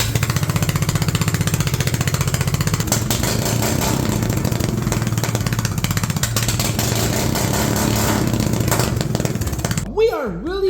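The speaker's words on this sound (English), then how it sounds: "Let's try to start this engine" A 15.5 HP engine on an old zero turn mower with a straight pipe cranks and fires, running as a loud, harsh, rapid pulsing roar right up close for about ten seconds before cutting off abruptly.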